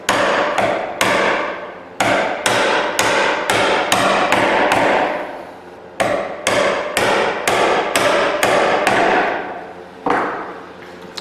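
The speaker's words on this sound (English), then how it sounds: "So I finish them with chisels, and that's what I'm going to do right now." Sharp, loud chisel strikes cutting tenon shoulders for a short wooden stool, a close series of evenly spaced blows in bursts with brief pauses between groups, no voices.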